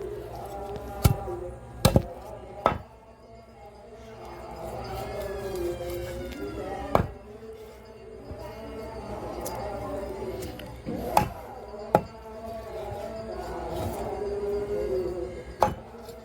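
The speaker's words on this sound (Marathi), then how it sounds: "चला, आपला लाशा कापून झाला आहे." Fish being chopped with a knife in a home kitchen for a Koli-style fish curry, a few sharp isolated chops standing out over a low background murmur of voices and room noise.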